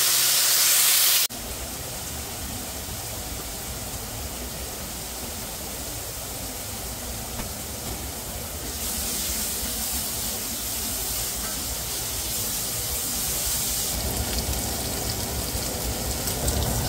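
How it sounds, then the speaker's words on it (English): Bacon frying in a pan: steady broadband sizzling and crackling fills the whole clip, a loud continuous hiss, growing slightly brighter partway through. "while I've been making the bacon, or frying the bacon"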